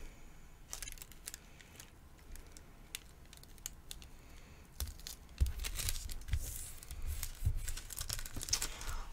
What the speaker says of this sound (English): scissors across the top here. So I'm going to go ahead and cut that off as well